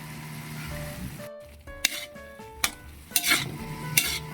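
Chicken pieces cook in a pot, bubbling steadily along with a few sharp clinks and scrapes of a utensil against the metal.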